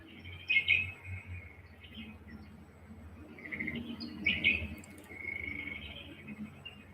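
Birds chirp and trill in a steady chorus over a soft, continuous insect hum in the bush, moderately distant with no voices.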